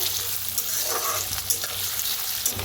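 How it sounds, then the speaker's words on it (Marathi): Onion and potato pieces fry in a pan with a steady hissing sizzle and a few scraping stirs, heard close and at an even level for nearly three seconds, no voices. "आता कांदा बटाटा छान असा भाजलं गेलेला आहे"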